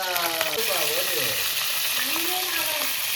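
Hot oil sputters and crackles steadily while frying for a brinjal gravy, a loud continuous sizzle with scraping stir sounds near the start and no speech.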